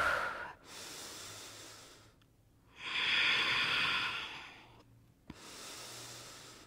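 Steady breathing during a yoga sculpt workout: long, audible inhales and exhales alternate in slow, even cycles, close and fairly quiet, with no talking.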